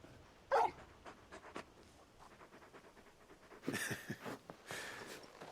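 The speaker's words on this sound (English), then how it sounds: "You're just a big puppy, aren't you? A very big puppy." A large dog in the video game Final Fantasy XVI pants and huffs in short, close bursts with a brief whimpering breath. There is no talking.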